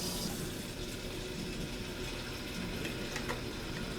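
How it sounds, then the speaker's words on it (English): Water pours steadily into the tank of a dog water fountain, giving a constant soft rushing and splashing wash that stays even throughout, with no talking. "We are going to put the water tank up to the max level."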